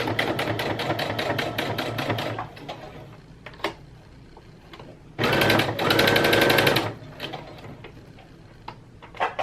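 A sewing machine topstitches close to a seam in bra-making fabric, running in two loud bursts of rapid mechanical stitching separated by a quieter pause, heard up close with no talking.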